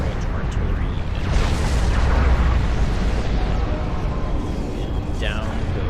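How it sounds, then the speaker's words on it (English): Long-range artillery fire from a Fat Boy unit in a video game battle, heard as dense, continuous booming and rumbling explosions that stay loud throughout. "That Fat Boy is doing its work as a long-range artillery unit"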